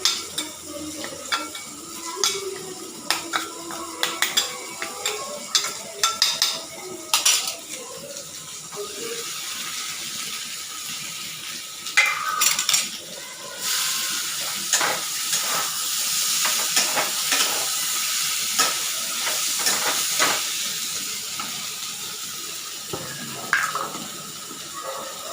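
A curry is stirred in a frying pan with turmeric, cumin, ginger, coriander and red chilli powder, giving a steady soft sizzle under irregular scraping and clattering strokes of the spoon, with a few brief louder knocks.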